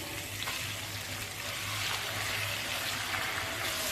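Boneless chicken pieces fry with vegetables over a low flame for a hot and spicy chicken spaghetti, giving a continuous, moderately loud sizzle with soft crackles throughout.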